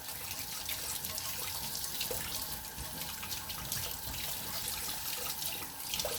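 Running water rinses freshly harvested garden vegetables clean, a steady close splashing and trickling stream that carries on throughout without pause.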